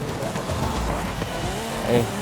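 A Lamborghini SC20 braking hard into a corner in the racing game Forza Horizon 5, its engine droning while a brief tire squeal rises toward the end.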